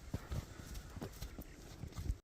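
A horse's hooves walk at an even clip-clop pace, with several distinct, fairly close hoofbeats at low volume and no voices.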